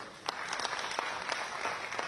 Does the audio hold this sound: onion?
no